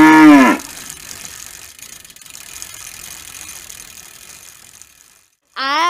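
An ox lowing: a short, loud moo opens, then a long stretch of faint mechanical clicking and ratcheting, and a second loud moo breaks in at the end.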